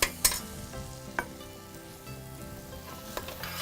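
Cooked basmati rice tipped into a hot pan of seasoned tomato tadka and stirred, a steady sizzle under a few sharp scrapes and knocks of the spoon against the pan, no talking.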